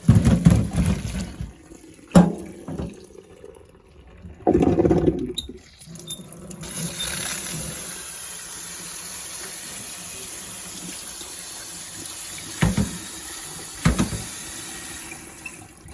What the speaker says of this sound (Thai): เอามาล้างนะคะ